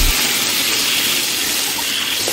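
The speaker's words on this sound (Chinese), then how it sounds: "加入清水" Clear water pours into a pot of fried bean paste and chunks of spicy Sichuan hotpot base, a steady broadband gush and splash filling the space for a couple of seconds without a break.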